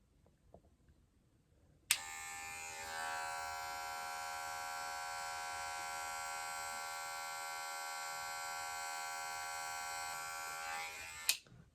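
Electric hair clippers buzz continuously for about ten seconds while cutting a low to mid taper fade, a steady close hum that starts and stops with sharp clicks from the lever being closed.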